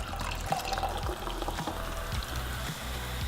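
Ginger sparkling water pours into a glass in a close, continuous gurgling stream with fizzy splashing, with no talking.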